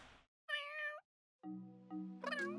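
Two short, clear meows from a short-haired cat in The Sims 3, separated by a brief gap and a steadier tonal game sound, fairly quiet overall with no talking.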